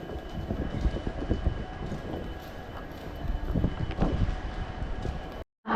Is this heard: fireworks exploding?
no